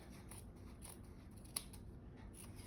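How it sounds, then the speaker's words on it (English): Scissors trimming the corners of sewn fabric, giving a single sharp close snip over a low steady background hum, with no speech. "now I cut the corners off just to reduce"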